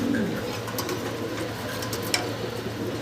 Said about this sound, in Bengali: এক জোড়া মাক্সি কালারের মুন্ডি কবুতর